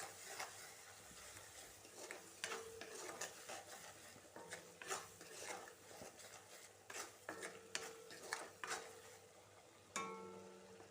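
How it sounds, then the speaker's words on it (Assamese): Small fish being stirred in a pan with turmeric, chilli powder and salt for an Assamese curry, a spoon scraping and clinking against the pan in irregular strokes over a soft sizzle, fairly quiet and close. "হালধি জলকীয়া গুড়ি নিমখ দি দিছোঁ দি পেলাই অলপ লৰাই দিছোঁ"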